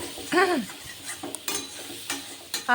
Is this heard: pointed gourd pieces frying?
yes